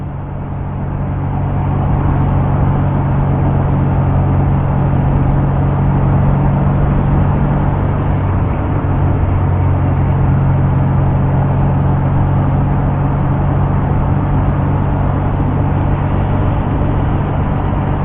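A 1970 MGB sports car cruises steadily, its engine and road noise forming a loud, constant drone with a low hum that holds unchanged for the whole stretch.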